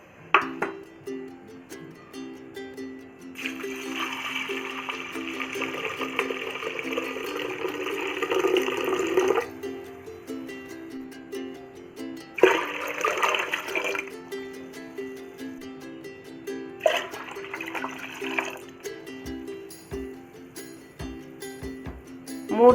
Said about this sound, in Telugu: మూడు లీటర్ల నీళ్ళు వేసి ఓవర్ నైట్ ఈ నన్నారి వేరుని దీంట్లోనే నానబెట్టాలి